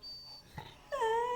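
Caesar the dog gives a brief whine, a faint soft whimper followed by a louder rising, wavering moan, close by with no barking.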